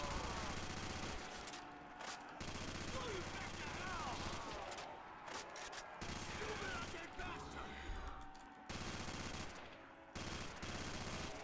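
AK-47 fire in Call of Duty: World at War custom zombies on Dale's Dock, heard as rapid automatic bursts broken by brief pauses, with players talking over it.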